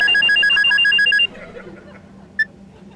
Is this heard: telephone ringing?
yes